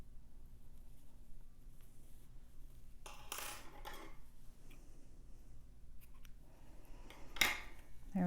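Scissors snip the yarn end off a crocheted scarf, a couple of faint, brief metallic cuts against a quiet room hum with no talk.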